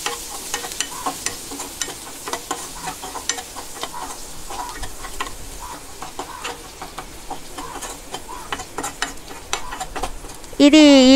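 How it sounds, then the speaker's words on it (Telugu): Sliced spring onion bulbs frying in oil until brown, a continuous close sizzle dotted with fine crackles and spatters, ending with a brief louder clatter. "అవి వేసుకొని కొంతసేపు బ్రౌన్ అయ్యేంత వరకు ఫ్రై చేసుకోండి"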